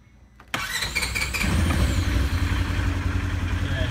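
A Polaris Ranger 900 engine cranks briefly, then catches and settles into a loud, close, steady idle.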